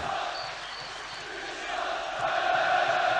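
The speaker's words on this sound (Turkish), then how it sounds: "Beşiktaş seyircisi yine ikinci yarıya müthiş bir destekle başlıyor" A large stadium crowd of Beşiktaş supporters roars and chants steadily at the start of the second half of a 2003 Turkish Cup football match against Gençlerbirliği, swelling slightly louder toward the end.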